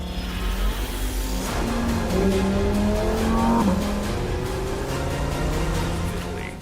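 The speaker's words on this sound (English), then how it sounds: "Its name is Lamborghini Huracan Evo." Lamborghini Huracan Evo, a 640-horsepower coupe, revs and accelerates with a rising engine note and tire noise, loud and continuous throughout with no talking.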